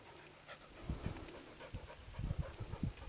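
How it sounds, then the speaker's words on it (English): A homestead dog that dislikes thunder pants rapidly and rhythmically close to the microphone, in short breathy bursts with no talking. "That's the homestead dog."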